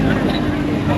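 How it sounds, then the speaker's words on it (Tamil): A heavy tractor engine rumbles loudly up close while churning through flood water in Batticaloa, Sri Lanka, with a voice speaking over the noise. "அங்க இருந்து டிராக்டர்ல வராங்க"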